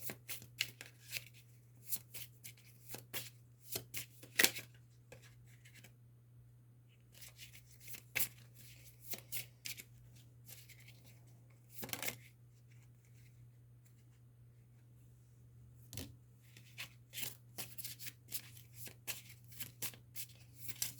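Small tarot cards being shuffled by hand, giving bursts of quick papery riffles and snaps that come and go with quiet pauses between them, over a steady low hum.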